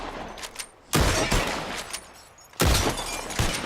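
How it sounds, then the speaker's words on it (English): Two loud gunshots from Red Dead Redemption 2, each shattering a bottle, fired about a second and a half apart in a bottle-shooting contest, with no talking. "The one who shoots the most bottles wins. Just draw your gun and aim when you're ready."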